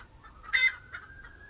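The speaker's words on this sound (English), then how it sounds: "They're angry chickens." Broody hens in a backyard garden plot give a few short, agitated clucks and one sharper squawk, close by and fairly quiet, with no talking.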